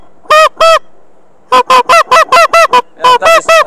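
A handheld goose call is blown to imitate a goose back call, producing loud, close, nasal honks: two at first, then a pause, then a rapid run of about six, followed by three or four more.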